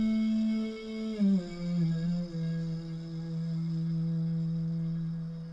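Sustained melodic vocal loop sample from Splice, played dry with no effects: a single held tone that glides down in pitch partway through and then holds steady, clear and upfront, with no talking over it.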